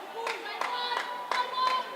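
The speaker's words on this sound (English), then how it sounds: "getting the sarcastic applause from his teammates for the great one" Teammates at an indoor cricket match give a sparse, sarcastic round of applause, about five separate claps spaced out at a moderate distance, fairly faint under the hall's ambience.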